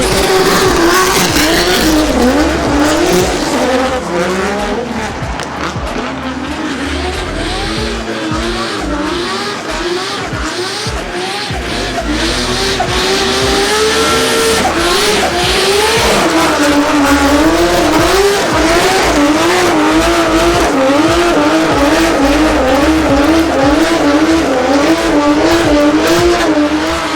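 A Nissan R35 GTR drift car at a D1NZ drifting championship screams continuously at high revs, its engine note rising and falling through gear changes with sustained tyre squeal, loud and close, with no talking.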